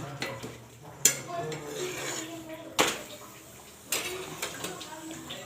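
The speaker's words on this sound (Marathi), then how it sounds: "तर चाललाय असा स्वयंपाक" Wheat chapatis with ghee being made in a home kitchen, with utensils stirring and scraping in pots, sharp clinks of metal against pans and a low sizzle underneath, close and moderately loud, with no talking.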